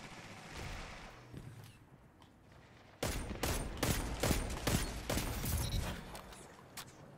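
Gunshots in the video game Destiny 2: a quieter stretch with scattered pops, then a loud, dense run of rapid shots and impacts that continues to the end.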